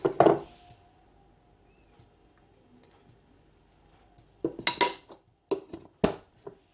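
A utensil clinks against a bowl while anchovies are being mixed with lemon, salt and spices: a sharp scrape at the start, then a quiet pause, then several bright, close clinks and knocks in quick succession, with no talk.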